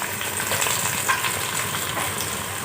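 Garlic, ginger, curry leaves and green and whole chillies frying in hot oil for a rice, potato and peas dish, a loud continuous sizzle close up with no talk.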